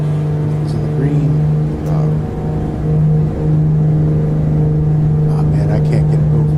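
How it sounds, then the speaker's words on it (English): Twin engines of a simulated Beech B60 Duke in Microsoft Flight Simulator 2020 hum with a strong steady drone that dips briefly and then holds, loud and close, with faint talk in the background. "I can't get over those engine sounds"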